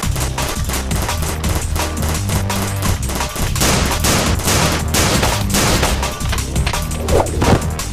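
Gunfire in a video game shootout, loud and continuous, with rapid overlapping bursts of shots and automatic fire packed tightly together with no pauses, no talking.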